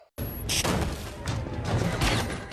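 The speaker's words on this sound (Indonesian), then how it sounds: "tiba-tiba sebuah bom meledak" A bomb blast in a film scene: a sudden heavy explosive boom that erupts and keeps roaring with crashing, rumbling debris throughout, loud and close, with no speech.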